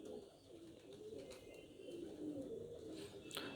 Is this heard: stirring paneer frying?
no